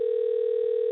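A telephone dial tone hums while a call is being placed, a steady, loud, unbroken electronic tone with nothing else over it.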